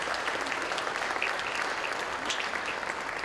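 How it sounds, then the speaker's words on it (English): Applause for students at a school recognition ceremony, steady, fairly faint clapping from a crowd, continuous throughout with no speech. "Let's have a round of applause for our students for the month of March."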